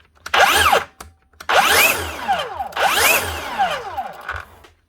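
A DeWalt 54V/60V cordless saw with a faulty speed controller, its motor whirring up in three loud bursts that rise and fall in pitch, each cutting out before restarting, with no talk over it.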